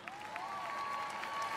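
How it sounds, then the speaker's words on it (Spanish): Applause from a carnival crowd at the Maspalomas 2024 Carnival queen gala, a fairly faint, steady spread of clapping and crowd noise with a sustained musical tone running beneath it. "¡Fuerte aplauso!"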